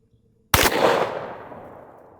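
A single loud gunshot from a .44 Magnum firing a 300-grain load, one sharp blast standing alone after silence, followed by a long rolling echo that fades over about two seconds.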